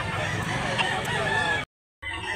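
A rooster crows loudly and close at a chicken market in Mantalungon, Barili, Cebu, a single drawn-out call over market noise, cut briefly by a short silence.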